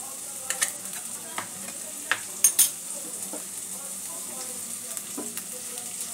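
Butter and a little oil frying with whole black peppercorns in a pan for chicken egg soup, a steady soft sizzle broken by a few sharp spatula scrapes and clinks, close and alone with no voice.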